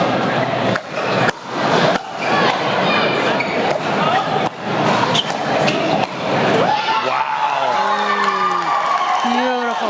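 Spectators at a Canadian National Pickleball League match cheer and whoop loudly after a point, a dense roar with sharp shouts that swells and then trails off as voices carry over it.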